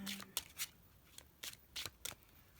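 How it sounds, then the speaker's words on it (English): Tarot cards shuffled by hand, a few quick soft papery slides and taps in short bursts, close and quiet, with no talk. "You guys can feel free to skip through the shuffling if you'd like."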